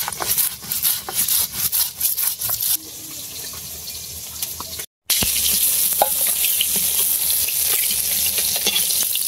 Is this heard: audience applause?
no